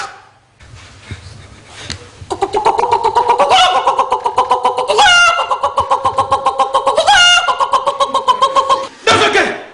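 A man imitates a rooster crowing with his voice, holding long strained crows that rise and break into sharp high cries, loud and close, after a brief quiet start.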